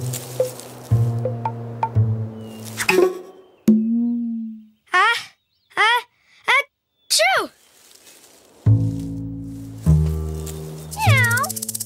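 A cartoon cat gives several short, rising meows in a quick series, alternating with bouncy musical notes and a squishy sound, alongside voices talking.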